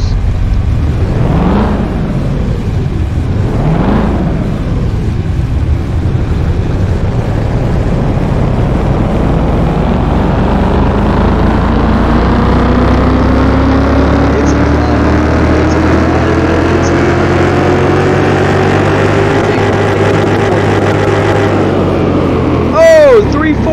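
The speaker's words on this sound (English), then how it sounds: "Let's see what the Camaro can do, shall we? This could be pretty loud. It is a V8." A V8 engine in a 1996 Chevrolet Camaro on a dyno in Car Mechanic Simulator 2021 blips twice, then climbs steadily through a long rising rev that peaks and cuts off sharply. It is loud and close, with a voice talking over part of it.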